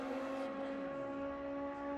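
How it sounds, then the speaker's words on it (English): A drag racing motorcycle doing a burnout in the left lane at the Fuel Tech World Finals, holding a loud, sustained high-pitched engine scream at steady pitch throughout. "All that noise you're hearing in the burnout is from the motorcycle in the left lane."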